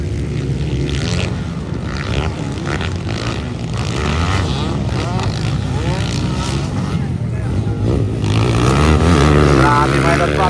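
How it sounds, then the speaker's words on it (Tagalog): An enduro motorcycle at a local race in Bukidnon roars and revs loudly, its engine note rising and falling under excited commentary, with crowd and event noise throughout. "Napakalakas na motor."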